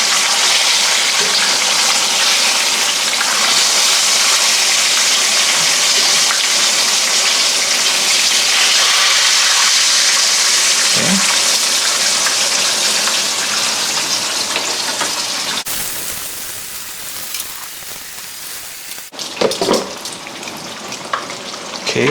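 Taiwanese pork chops fry in hot oil with a steady, loud sizzle that fills most of the stretch, then it drops quieter, broken by a sharp break and brief bursts of crackling near the end.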